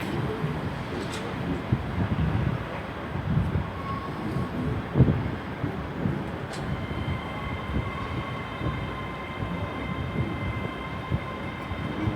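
Class 305 electric trains, units 028 and 003 heading to Lanark, rumble steadily through Glasgow Central station with faint squealing tones and occasional clicks, heard at moderate distance without talking.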